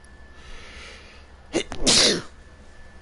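A single loud, close human sneeze bursts out after a quiet stretch, with a short breathy intake just before it, heard alone against faint background hum in a FFVII Remake play session.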